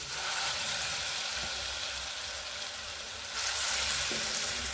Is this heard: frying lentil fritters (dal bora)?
yes